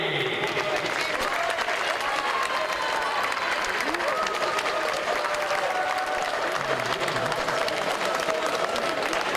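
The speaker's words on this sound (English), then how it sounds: "Make some noise for Silvia Jacopo dal Pra, Italy." A large crowd applauds and cheers at a paraclimbing world championship final in Paris, a continuous wash of clapping and shouts that stays even and fairly loud throughout, with faint voices mixed in.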